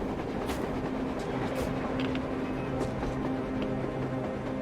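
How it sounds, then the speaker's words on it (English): A train rumbles past on the surface in the video game Metro Exodus, a steady rolling drone with rhythmic clatter and a few sharp metallic bursts, heard alone without talk. "A damn train on the surface!"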